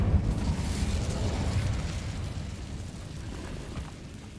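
Incendio fire spell cast in the game Hogwarts Legacy: a loud, rushing burst of flame that rumbles on steadily and then slowly fades, with no talking.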